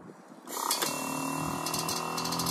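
A steady mechanical hum with a whirring, ratcheting edge from a train air horn kit's air compressor starts up and keeps running evenly, with no talking over it.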